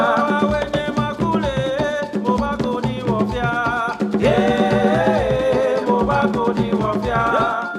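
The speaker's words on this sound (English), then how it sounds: "In a common West African style of music known as call and response" West African call and response song in which a lead singer alternates with a chorus in a steady repeating pattern, voices full and close over continuous accompaniment.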